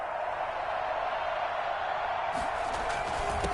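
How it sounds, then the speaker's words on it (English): A football stadium crowd roars steadily as fans rise before a two-point conversion attempt, a dense continuous wall of cheering with a commentator's voice faintly over it. "this crowd rises to make things difficult"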